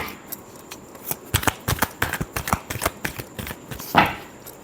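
Tarot cards shuffled by hand in a quick run of crisp riffling flicks and slaps, a burst near the end, close and alone with no talk.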